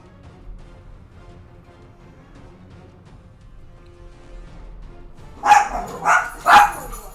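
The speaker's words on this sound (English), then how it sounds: "Hush, dogs." Dogs barking indoors, three loud sharp barks near the end following a stretch of quiet background sound.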